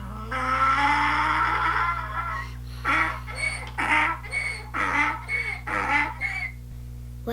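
A donkey brays: one long drawn-out note, then a rhythmic run of loud, harsh hee-haw bursts, close and alone with no other sounds.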